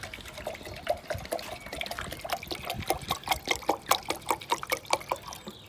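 Almost a litre of water filling a Jetboil Flash 2.0 cooking pot, a steady close trickle with bubbling, gurgling pulses that grow more rhythmic and pronounced as the level rises.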